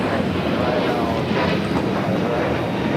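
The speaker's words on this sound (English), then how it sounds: "That is the special only Madrid livery on this Iberia A350-900 coming in from Madrid." An Iberia Airbus A350-900 in a special Madrid livery, arriving from Madrid at Los Angeles LAX, makes a steady, loud broadband jet roar that holds for the whole stretch with no clear rise or fade.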